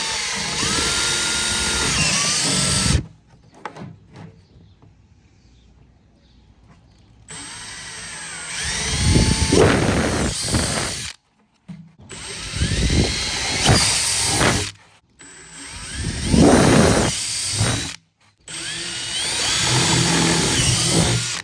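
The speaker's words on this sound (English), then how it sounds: "now we're ready to go ahead and drill them in" A power drill drives screws in several bursts of a few seconds each, with short quiet gaps between them, loud and close.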